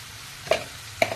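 Broccoli stir-frying in a pan, a soft steady sizzle with two quick scraping stirs of a spatula, close and fairly quiet, no talking.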